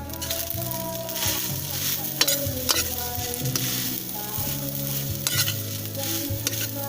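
Seasoned food with ginger sizzles in a frying pan while a utensil stirs it, with repeated scraping strokes and sharp clinks over a steady close hiss, and no voices.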